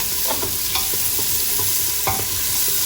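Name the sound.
onions frying in melted butter for pumpkin soup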